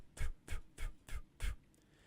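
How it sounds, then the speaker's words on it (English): Five short, sharp bursts of breath pushed from the stomach in an even staccato rhythm, close and fairly quiet, like eighth-note practice for a wind player. "we want to have short, fast bursts of air."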